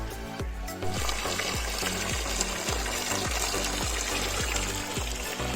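Mountain spring water pours from a natural source in the hills near Munsiyari, a loud, continuous splashing gush with rhythmic gurgling pulses, close by and without speech.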